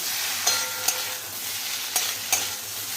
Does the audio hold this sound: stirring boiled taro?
yes